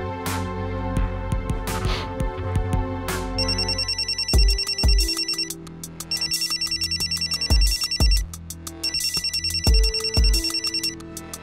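A phone ringtone plays a repeating electronic melody, with bursts of bright chiming notes over a rhythmic beat, loud and close.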